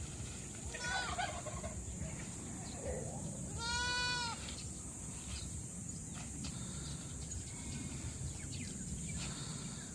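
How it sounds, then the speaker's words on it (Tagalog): Goats on a farm being fed banana leaves give a distinct bleat midway, with softer animal calls and fowl sounds before and after, all over a steady background hiss and low rustling. "nakapagpakain kami ng kambing, diba?"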